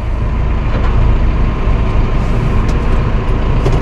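A Massey Ferguson 5S.145 loader tractor with its loader raised backs up, its engine holding a loud, steady, close rumble throughout.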